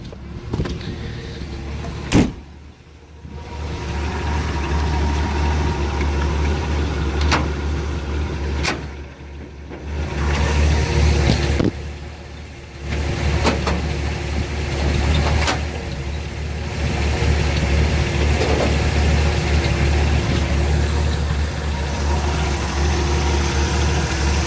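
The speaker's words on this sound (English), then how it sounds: "It's a carbureted 300 cubic inch inline 6 engine." A carbureted 300 cubic inch inline-six in a 1983 Ford Econoline camper van idles steadily with a low, continuous rumble, close and fairly loud, broken by a few brief sharp clicks and knocks and no talking.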